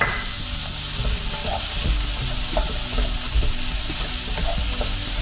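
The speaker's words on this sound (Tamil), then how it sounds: "நம்ம போட்டிருக்க அந்த ஒரு டீஸ்பூன் எண்ணெய் பல பல பலன்னு மேலே வருது பாருங்கள்" Loud, steady oil sizzle fills the pan as steamed snake gourd fries in a teaspoon of oil for a curd pachidi, with a continuous bubbling hiss and faint stirring knocks underneath.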